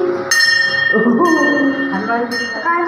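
A rashi bell in a home temple rings with bright, sustained metallic tones, struck a few times, while someone talks over it.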